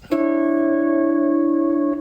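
One sustained pedal steel guitar chord struck once, ringing steadily with a slight wavering shimmer before it is cut off, heard alone and up close.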